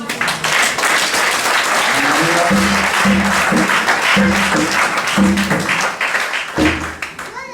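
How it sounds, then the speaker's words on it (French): Church congregation bursts into sustained applause and cheering, a dense wash of clapping with shouts and low rhythmic thumps, loud and close for several seconds before easing off. "Est-ce qu'on peut acclamer les rois?"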